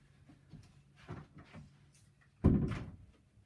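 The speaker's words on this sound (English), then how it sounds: "I've gotta close the door." A door being shut indoors, heard as a short burst of soft shuffling and handling followed by one firm, close thud near the end, with no talking.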